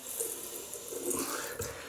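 Tap water runs steadily into a sink as a shaving brush (Merkur Futur, Rich Man) is wetted, a close, continuous splashing hiss with a brief louder gush near the end.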